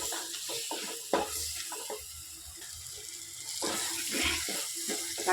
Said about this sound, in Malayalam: ഇത് നമുക്ക് പുളി വെള്ളം ഒഴിക്കാം